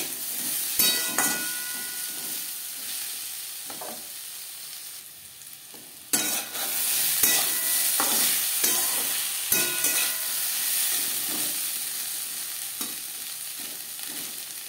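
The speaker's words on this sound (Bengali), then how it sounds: "লবণ হলে আলুর সাথে বেশ ভালো করে মিক্স করে দেবো।" Potatoes stir-fry in a pan with salt and turmeric, giving a continuous close sizzle broken by scraping stirring strokes and occasional sharp clicks of a spatula against the pan.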